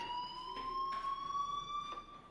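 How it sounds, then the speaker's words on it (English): A fire alarm in the video game Life is Strange rings with a steady, continuous electronic tone, held at even loudness across the whole span with faint background sounds. "do you hear that fire alarm? That means you should be outside."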